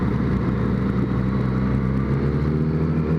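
A Yamaha FZ-09 (MT-09) motorcycle engine pulls away with a steady, close, low rumble as a new rider sets off, the drone holding even with no voices over it.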